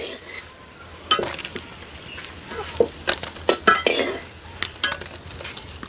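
Egg puris are fried in oil and lifted from a pan, with scattered utensil clinks and scrapes over a faint, steady sizzle.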